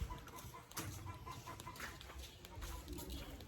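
Chickens cluck faintly in the background on a pig farm amid outdoor ambience, soft and scattered, with no clear talk.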